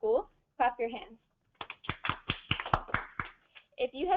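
An audience claps hands at a public health talk: a burst of scattered, overlapping claps lasting about two seconds, with a person speaking just before and after.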